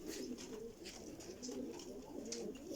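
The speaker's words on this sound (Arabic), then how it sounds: "شوفوا لي هاي الطيرة" A pigeon coos in repeated low, rolling phrases with a steady rhythm, close by but fairly soft, with no voices over it.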